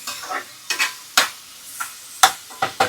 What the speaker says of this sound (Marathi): मस्तपैकी याला थोडंसं हलका ब्राऊन होईपर्यंत आपण भाजणार आहे छानपैकी